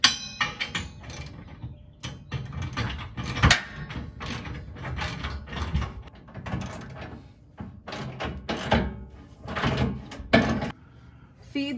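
A socket wrench with a 15/16 socket tightens trailer hitch bolts on a Ford F150 for a Curt Class 3 hitch, giving close metallic ratcheting and clanking in irregular bursts, with some talk and shuffling around it.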